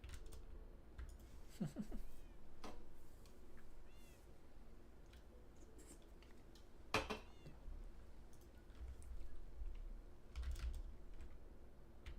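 Cats meow a few times in the block-building game Minecraft, faint and spread across the scene over a steady patter of computer keyboard typing.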